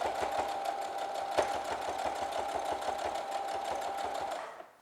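A sewing machine stitches along the edge of a cloth face mask with ties, a close, steady rapid mechanical chatter that runs evenly before stopping at the end.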